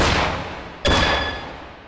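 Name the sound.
simulated gunshots in a dry-fire shooting game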